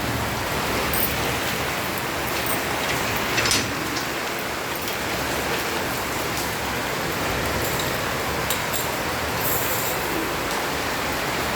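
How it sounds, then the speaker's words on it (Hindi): Heavy rain pours steadily in an outdoor setting near a temple, a dense, even hiss of drops hitting surfaces throughout, with no one speaking. "और आज बारिश हो रही, भगवान हमारे भीग रहे हैं,"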